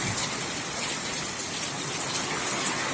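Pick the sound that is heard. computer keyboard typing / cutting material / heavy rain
heavy rain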